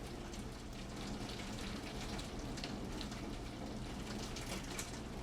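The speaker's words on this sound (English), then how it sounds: "I know that the rain is pretty loud." Rain in the video game Settlement Survival: a dense, steady hiss of heavy rainfall with soft pattering drops, continuous and fairly faint overall, no voices.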